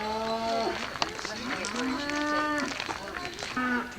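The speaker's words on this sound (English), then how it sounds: "There's a bunch of cows over here making a lot of noise." Cattle mooing repeatedly near Pendleton, Oregon, long drawn-out lowing calls from several cows overlapping one another, loud and close, with a person talking over part of it outdoors.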